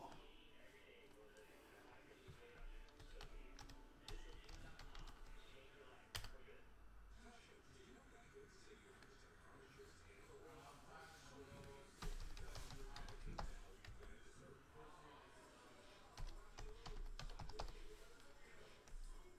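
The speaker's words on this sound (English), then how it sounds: "Let's type in the teams." Fingers type on a computer keyboard, a quiet continuous patter of key taps with a few louder clicks and brief pauses, close by in a room during a hockey card case break.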